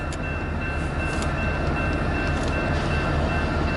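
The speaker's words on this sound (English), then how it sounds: "this is an eastbound BNSF coming out of Hobson Yard. That's what's in the background there." An eastbound BNSF freight train rolls past near Hobson Yard in Lincoln, Nebraska, a steady, loud rumble of wheels and cars filling the whole stretch with no break and no voices.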